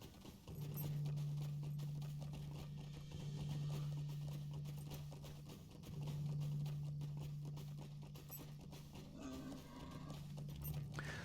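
Horse hooves clip-clop steadily in the Lord of the Rings Online video game, a continuous rhythmic trot heard up close over a low, sustained background hum with no talking.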